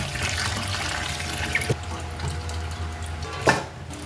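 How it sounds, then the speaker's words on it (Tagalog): Bitter gourd gets rinsed under a running tap, a steady close splash of water with a couple of brief clatters and knocks as the vegetable is handled. "Hugasan natin yung ampalaya."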